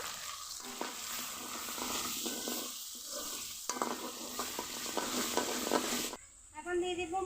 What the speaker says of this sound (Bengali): লবণ হলুদের গুঁড়া আর কিছুক্ষণ কষিয়ে নিব